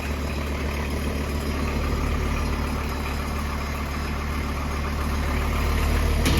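A VW T4 4x4 van on a lift with its engine running in first gear, a steady low rumble and drone that stays constant and swells slightly toward the end, close by and without speech.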